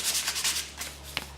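Sandpaper rubs against a stained deer antler in short, close strokes, a soft scratchy rasp repeating several times with a brief sharper scrape near the end.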